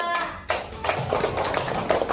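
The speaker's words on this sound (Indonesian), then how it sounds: "beri tepuk tangan untuk kelompok Torik juga" A classroom of students claps for a student group during an Islamic religious education lesson, a short burst of hand claps starting after a brief pause, close and fairly loud.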